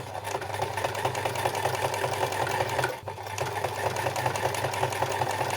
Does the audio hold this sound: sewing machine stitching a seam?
yes